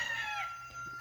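Buff Orpington hens on a small farm, heard as a steady, close run of bright clucking and crowing-like calls lasting about a second, with no talk.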